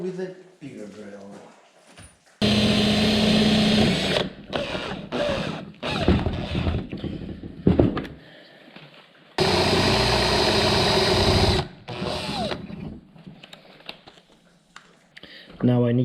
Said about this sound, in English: And now with a bigger drill.